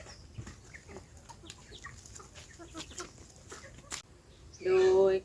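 Chickens cluck and call around a farmyard in the morning, scattered short calls near and far over light background noise, ending with a loud sustained sound near the end.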